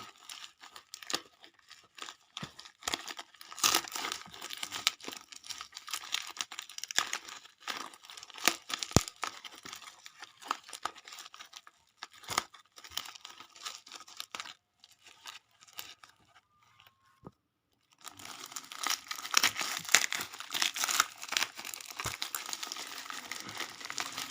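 Packing tape pulled off a parcel, with long crackling, tearing strips and crinkling plastic, a brief pause, then more ripping close up.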